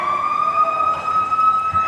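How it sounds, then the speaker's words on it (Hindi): A loud, steady emergency siren wails continuously during a rescue drill at an NTPC industrial site, its sustained tone holding without break and with no talk over it. "Siren initiation with the consent of CIC has been done and the siren has been initiated as per the CEA siren mode."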